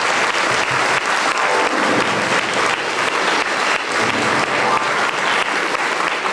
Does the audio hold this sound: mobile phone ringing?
no